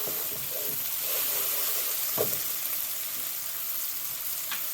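Tomato paste and onions sizzle in a pot for a lamb stew, a soft steady hiss with a few faint stirring scrapes, close but quiet and without talk.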